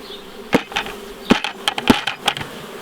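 Honeybees buzz as they are shaken out of a nucleus hive, with several sharp knocks and thumps of the frames cutting through a close, busy hum.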